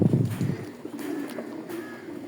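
Pigeons coo close by in low, soft, throaty bursts, strongest at first and then fading into quieter background noise.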